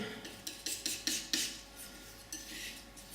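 A palette knife scrapes and taps as it mixes ultramarine and burnt sienna oil paint on a palette, a series of short, crisp scraping strokes close by that ease into softer smearing, with no voices.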